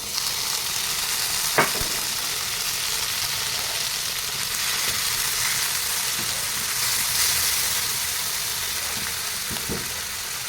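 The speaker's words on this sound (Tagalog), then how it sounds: "At gisa-gisa natin guys ang ating kamatis at sibuyas para masarap." Tomatoes and onions sauté in a pan for corned beef, a steady broad sizzle and hiss running throughout, close and even, with a few sharp clinks of a utensil against the pan.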